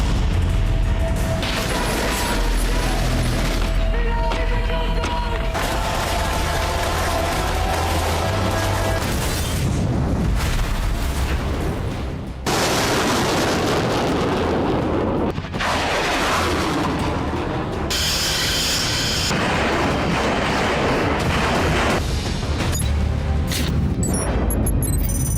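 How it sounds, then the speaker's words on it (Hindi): Mortar fire, gunfire and explosions along a border at night, heavy booms and bursts of shots following one another densely and loudly, mixed with mechanical rumble and no talking. "मोर्टार, गोलीबारी, बम धमाके, रॉकेट लॉन्चर, शॉर्ट रेंज मिसाइलों के धमाके से पूरा बॉर्डर दहलने लगा।"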